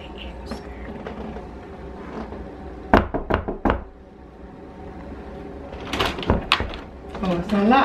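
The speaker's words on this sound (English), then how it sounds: "I guess I'll go knock again." A household door is knocked on in two bursts of several sharp, close raps, a quick cluster and then another round later, with a person talking in between.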